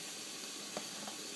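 Yellow zucchini from a farmer's market sizzling in a hot pan on the stove, a steady close frying hiss with a couple of faint pops, no talking.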